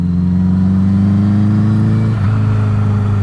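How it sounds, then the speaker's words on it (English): Car engine droning steadily and loudly up close while driving to scrub in new tyres, with a brief dip and shift in pitch partway through, no voices. "Scrubbing new tyres in is fun, said not very many people."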